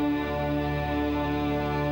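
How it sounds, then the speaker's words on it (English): Yves Klein's Monotone Symphony, a whole orchestra holding a single unchanging note, sounds as a steady, even drone played on CD indoors, fairly quiet and without voices. "The sound you're hearing is the sound of a symphony Klein orchestrated"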